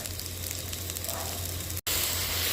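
Pheka (Indian trumpet tree) pods stir-fry in hot oil over high heat, giving a continuous loud close sizzle with a brief cut before it resumes.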